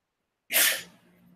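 A single sharp, close sneeze bursts out in a quiet classroom lecture, then fades into faint room tone.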